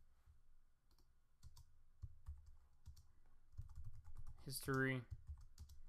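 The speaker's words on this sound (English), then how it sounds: "I'll use a little divider here on my keyboard." Soft, quiet clicks of typing on a computer keyboard while building a first web page, scattered irregular keystrokes with a brief spoken word partway through.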